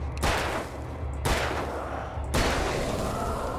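Three loud gunshots in the video game Alan Wake, each a sharp crack spaced about a second apart with a short echoing tail, no talking.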